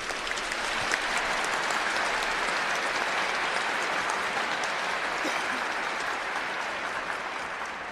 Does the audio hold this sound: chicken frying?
no